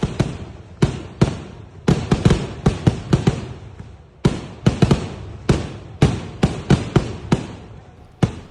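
Rapid volleys of sharp firecracker bangs at a temple festival fireworks display by three teams, loud and close, bursting in dense clusters with brief pauses between the rounds.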